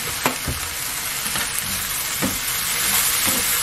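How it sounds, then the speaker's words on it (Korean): Sliced Korean zucchini seasoned with soy sauce and syrup sizzles steadily in a hot pan, with occasional scraping taps of a spatula stirring through the constant frying hiss. "이거는 살짝만 이렇게 볶으면 돼요"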